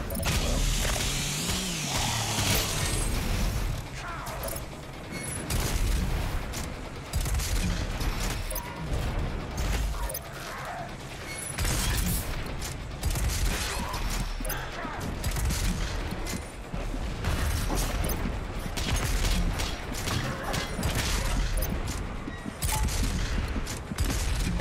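Sustained rapid gunfire from DOOM Eternal as a demon is shot over and over, dense loud bursts running almost continuously with brief lulls and heavy impacts, no talking over it.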